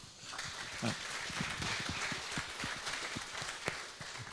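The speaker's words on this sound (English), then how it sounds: "I'd ask you to give them a round of applause." An audience applauding steadily at a panel talk at the National Ploughing Championships, many hands clapping in a dense, continuous patter that holds at an even level throughout.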